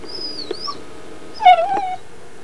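A dog in its kennel whimpers in two thin, high, wavering whines, the second louder and breaking downward, against a quiet rural background.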